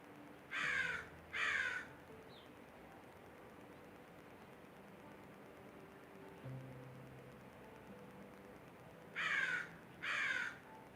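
A crow caws outdoors during a yoga class, two quick pairs of loud harsh caws at the start and again near the end, with quiet background between.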